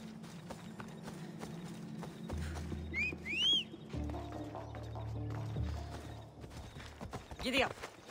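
Horse hooves gallop in the video game Assassin's Creed Odyssey as a rhythmic clip-clop. A brief whinny and a whistle are heard, and someone talks over the riding.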